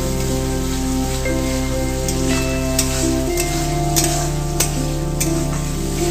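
Tomato paste ground with fried cumin and salt sizzles in a pan while a spatula stirs it, giving a continuous close sizzle with sharp scraping clicks every second or so; no voices.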